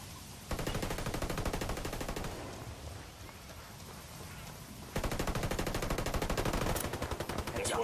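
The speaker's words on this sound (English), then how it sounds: "I'm under fire." Shooter video game gunfire: loud, sustained rapid automatic fire in two long stretches, with a slightly quieter, denser patch of shooting between them.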